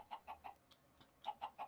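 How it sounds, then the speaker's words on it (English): Chickens in Minecraft cluck in two quick bursts of three short clucks each, separated by a brief pause, faint and clear with no talk. "Yeah, I'll put the chickens in here."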